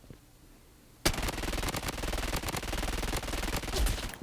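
Uzi submachine guns firing in the shooter game Blood Strike, fitted with a CQB muzzle device: after a quiet second, a loud, sustained rapid-fire burst rattles on close and continuous to the end.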